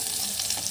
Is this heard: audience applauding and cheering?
no